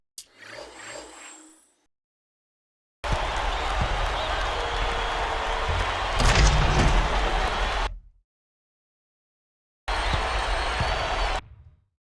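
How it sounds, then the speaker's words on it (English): Crowd noise roars up in an NBA 2K12 basketball arena after a monster dunk, a loud sustained wash of cheering that cuts out, then returns briefly after a pause, with a short murmur of voices at the start. "With that one, boy, they got the crowd buzzing there."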